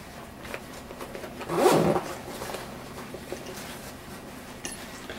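One quick, close zipper pull on a tactical bag rasps briefly, followed by faint handling noises and near silence.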